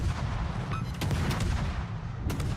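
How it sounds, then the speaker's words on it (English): Warship guns firing in World of Warships, a dense, continuous boom of naval gunfire with several sharp blasts standing out over the heavy low roar. "Since these guys are both looking the other way, I might as well open up with my guns."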